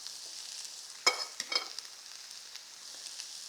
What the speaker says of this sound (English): What I like to do is begin by sauteing just a little bit of zucchini